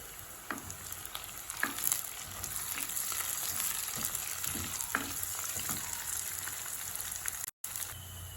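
Green chillies and onions fry in a pan with a constant close sizzle, broken by irregular spoon clicks and stirring scrapes, with no talking.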